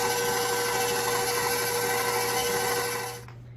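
A stand mixer churns whole wheat cinnamon raisin bread dough with farm eggs and flour, a steady loud motor whir holding for about three seconds before cutting off abruptly into quiet.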